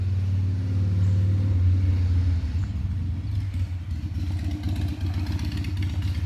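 A motor vehicle passes by outdoors with a steady low rumbling engine drone that stays loud and close for several seconds, then fades slightly into a rougher clattering texture.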